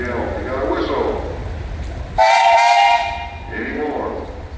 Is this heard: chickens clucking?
no